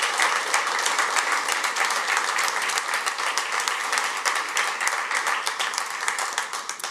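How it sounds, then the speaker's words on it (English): Steady, loud audience applause at a medical center groundbreaking ceremony, dense clapping from a large crowd sustained evenly for about seven seconds with no talk over it. "Let's give another round of applause to Stoller."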